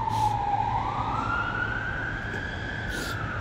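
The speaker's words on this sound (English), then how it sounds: "Oh, I can hear sirens." A wailing siren rises and holds over steady traffic rumble, the emergency vehicle sounding moderately close with no talking.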